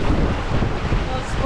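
Strong wind buffets the microphone aboard a sailboat on open water, a loud, steady roar with waves and hull noise mixed underneath, continuous throughout.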